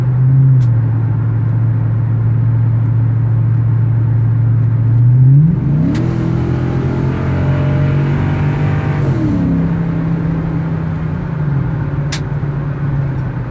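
A Ford F-250 Super Duty 6.2 pickup's Dynomax exhaust idles with a deep steady drone, then revs up for a few seconds into a louder, rising roar before settling back to idle.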